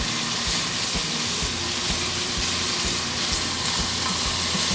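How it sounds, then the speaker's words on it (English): Onions sautéing in oil and bacon fat in a pan, a steady close sizzle with bubbling crackle throughout, no talking. "We're gonna let this oil and bacon fat saute these for about 2 or 3 minutes."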